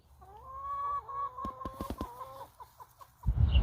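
Chickens cluck close by in a rapid string of short, throaty calls, ending with a brief rustling burst.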